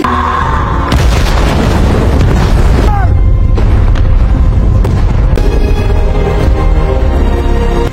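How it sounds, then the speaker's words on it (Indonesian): A loud explosion bursts in about a second into a film scene of a man blowing himself up, with rumbling booms and debris continuing at high level throughout, and a second surge later. "Betapa syoknya Ellie saat melihat Miller tewas meledakkan diri"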